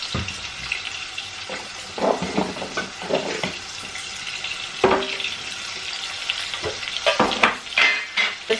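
A frozen tomato hits a pan with onions for Bengali-style mackerel, setting off a steady frying sizzle broken by sharp clatters of stirring and scraping, close and fairly loud throughout.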